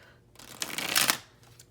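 A deck of oracle cards is shuffled in one quick riffling burst, close and crisp, swelling and then fading over about a second, with no talking over it.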